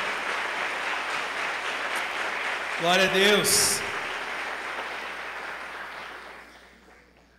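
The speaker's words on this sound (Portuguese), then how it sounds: "Aplauda Ele bem forte." A church congregation applauds in a steady, dense wash of clapping while one voice briefly shouts praise over it, then the applause gradually fades away.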